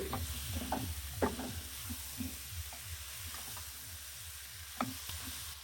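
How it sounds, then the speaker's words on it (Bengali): Stingray pieces, 700 g, hit a hot spiced pan and set off a steady close sizzle, with a few brief clinks and stirring scrapes over the continuous frying hiss. "তারপর আমি এখানে সাতশো গ্রাম স্টিংরে পিস দিয়ে দিচ্ছি"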